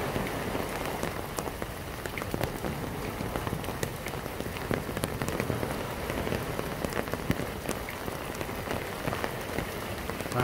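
Steady rain falls on hard surfaces at Songjeong Jukdo Park in Busan, a dense, even patter with scattered sharper drops, continuous and fairly close without any voices.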